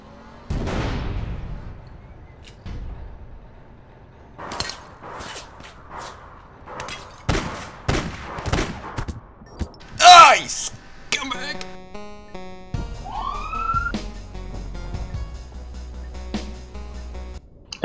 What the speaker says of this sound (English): what's shooting at me? A sniper rifle on the other side.